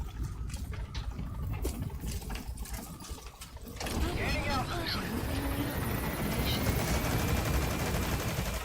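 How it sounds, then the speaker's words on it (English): Unsuppressed gunfire in the Metal Gear Solid V video game, a rattle of shots that swells into a louder, denser stretch of firing after a quieter opening with ambient game sounds. "Firing unsuppressed shots."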